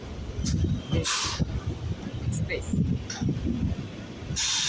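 Local EMU trains roll into Sealdah station, a rumbling rail clatter with bursts of hissing air and brake noise, while someone talks over the din.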